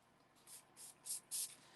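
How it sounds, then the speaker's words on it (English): Four short hissing bursts from a spray bottle misting water onto a sheet of aqua pigment paper, each puff growing a little louder, close up and with no voices. "I'm just going to spray it with some water off camera quick."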